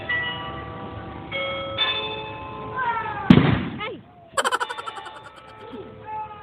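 A single loud cannon blast booms out among ringing bells, followed by a scattered crackling echo as the bells continue.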